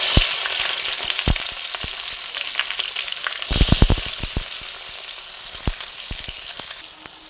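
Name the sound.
chopped onion sizzling as it is added to hot oil with whole spices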